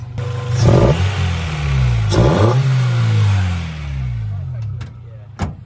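Acura Integra engine revving repeatedly with a new intake, each rev rising and falling in pitch with a throaty rumble, close by, with a few sharp clicks toward the end.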